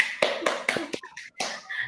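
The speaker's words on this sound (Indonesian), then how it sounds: "Tepuk tangan buat Tajul" Classroom children clap for a pupil in a few distinct, rhythmic group claps, sharp and close, with a short pause before a final looser burst.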